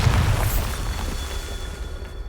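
Bombarda blasting spell in Hogwarts Legacy: a single loud, deep explosive boom at the start that rumbles and decays over about two seconds.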